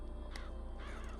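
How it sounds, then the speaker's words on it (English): Crows caw in BioShock Infinite, two brief harsh calls over a steady low mechanical hum, moderately faint and without talk. "Press to summon murderous crows."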